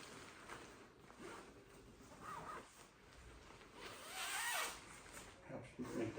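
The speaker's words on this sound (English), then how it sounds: "the duvet cover also has, as it looks like, a double-sided zipper" A double-sided zipper on a duvet cover is drawn in long, soft rasping pulls, fairly quiet and close, with a faint voice in the background.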